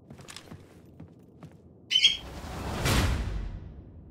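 Bird in the video game TREPANG2 giving a sudden single squawk, followed by a louder whooshing burst of game sound.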